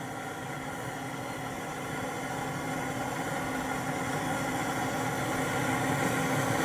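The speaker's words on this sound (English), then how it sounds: "And then you turn the propane torch onto the pellets until they get a good flame going." A propane torch flame plays over pellets to get them burning, producing a steady, close broadband roar with a low hum underneath that grows slightly louder over several seconds.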